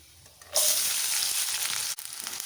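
Chopped shallots and a green chilli with spices hit hot oil in a pan, breaking into a loud, steady, close sizzle after a brief quiet start, with a short dip near the end before the frying resumes.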